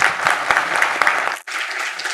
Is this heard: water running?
no